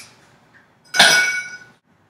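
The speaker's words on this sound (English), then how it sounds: "Tall glass. Some ice." Ice clinking into a tall glass for tarragon juleps, a single bright, ringing clatter up close that fades within about a second in an otherwise quiet kitchen.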